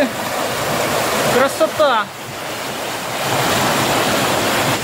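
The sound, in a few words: powerful flow of the Biyuk-Karasu river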